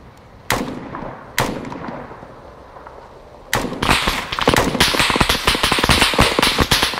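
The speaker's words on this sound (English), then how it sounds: "Enemy fire!" Enemy gunfire in the military shooter Arma 3: two sharp single cracks, then a sustained burst of rapid overlapping shots and impacts, loud and close, with no talking.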